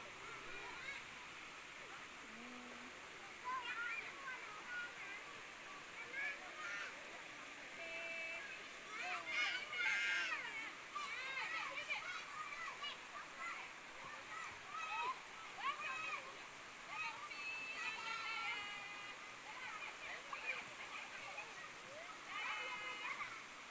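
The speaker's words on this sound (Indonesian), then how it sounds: "Langka air terjun di pinggir jalan." A small roadside waterfall in Aceh Tamiang rushes steadily as children splash and play nearby, their voices and chatter audible over the constant moderate water noise.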